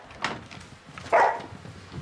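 A dog gives a couple of short barks and whimpers indoors at night, close and moderately loud, with no talking over it.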